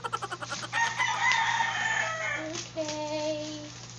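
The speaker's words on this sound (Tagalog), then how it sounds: "At least dili boring akong video kay manok sa background, diba?" Rooster crowing in the background during an indoor unboxing of a mini sewing machine, a few clear rising and sustained crows with clucking between them, moderately distant, with no talk over it.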